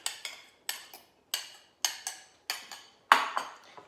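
A utensil clinks rhythmically against a bowl while liquids and spices are mixed for a ground beef wonton filling, about eight sharp, close scraping taps at a steady pace with no talk.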